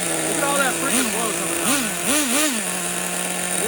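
A Traxxas T-Maxx nitro RC engine, leaned out and running hot, idles fast with a steady buzzing drone whose pitch swoops up and down in short blips, loud and close throughout.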